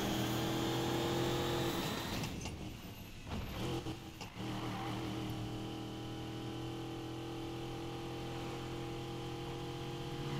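Car engine in the street-racing game Need for Speed Payback, a loud sustained drone that breaks up into a few rough bursts around the middle, then settles into a steady, slightly rising tone.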